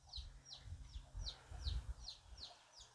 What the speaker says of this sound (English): Got a little one chirping away